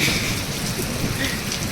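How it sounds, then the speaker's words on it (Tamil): Heavy rain pouring down hard, a dense constant hiss and patter on surfaces nearby, steady and loud throughout with no voices. "மழை வந்து பிச்சு ஊற்றுதுங்க."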